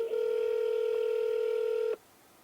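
Telephone tone on a call to a court office: one steady, loud electronic tone holds for about two seconds, then cuts off abruptly and leaves a quiet line.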